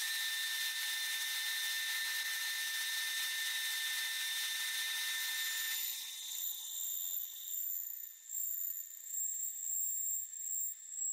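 A lathe cutter turns caprolon guitar gears with a steady, high-pitched whine that changes in tone partway through and then wavers unevenly, close and continuous with no talking.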